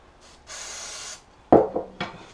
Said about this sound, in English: physically wiping any residue off. This is quick drying contact cleaner for electronics.